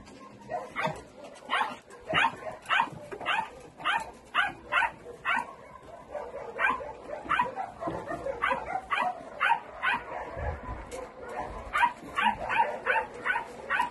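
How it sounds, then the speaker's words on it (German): More than twenty puppies in a crowded kennel bark and yip in rapid overlapping bursts, a dense chorus of short high-pitched barks that continues throughout. "Sie ist in einem sehr vollen Kennel. Hier sind über 20 Welpen drin."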